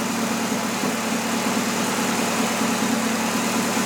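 Budget turbo build car engine idling steadily at close range, a continuous low rumble with an even throb and no voices.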